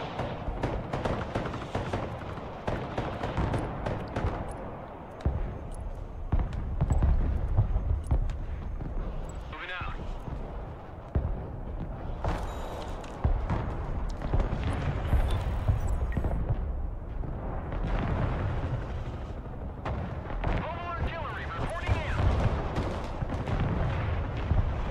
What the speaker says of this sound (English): I'm firing artillery now at it.